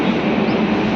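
Dadar to Ekta Nagar express train running steadily, a dense continuous rail rumble held at an even loudness for about a second, with no voices.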